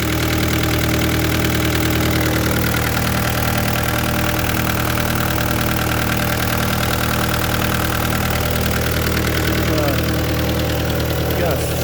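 A 2013 Vermeer SC602 stump grinder engine runs steadily at idle, a loud continuous droning rumble with a constant low hum that persists throughout, with people talking faintly over it.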